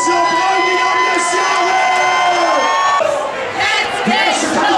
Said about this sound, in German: Und jetzt kriegst du jetzt mal einen riesigen Applaus.